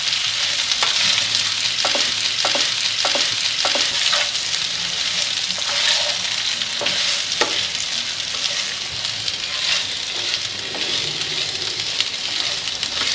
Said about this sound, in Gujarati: હવે ગેસની લો ફ્લેમ પર બધું મિક્સ કરી લઈશું